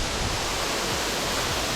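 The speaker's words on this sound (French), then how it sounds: "On va passer derrière la cascade." Waterfall in the Jura mountains, heard up close: a dense, continuous roar of falling water, loud and steady with no breaks and no talking.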